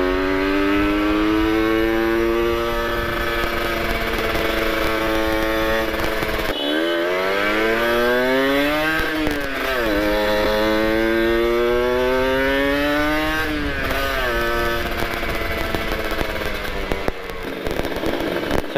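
A two-stroke motorcycle engine revving loud and close in traffic, a buzzing, raspy tone that climbs and drops in repeated throttle surges across the whole stretch, with no voices.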